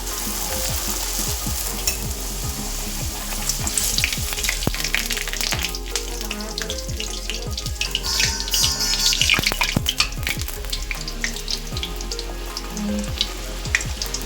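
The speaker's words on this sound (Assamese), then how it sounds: "এতিয়া মই পুৰিখিনি পুৰি লওঁ" Oil sizzles and crackles steadily as puris deep-fry in a kadai, with bursts of popping and occasional soft stirring clinks, close and continuous.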